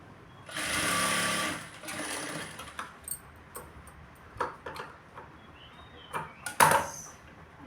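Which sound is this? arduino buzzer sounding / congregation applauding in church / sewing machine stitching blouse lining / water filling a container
sewing machine stitching blouse lining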